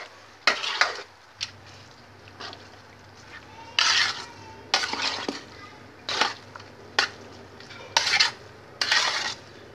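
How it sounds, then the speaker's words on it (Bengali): Spoon mixing spiced rice with soaked raisins for mutton biryani in a pot, producing repeated scraping and clanking strikes against the metal at an uneven rhythm over a low background hum, close and clear. "দেখুন বন্ধুরা আমি ভালো করে মিশিয়ে দিলাম"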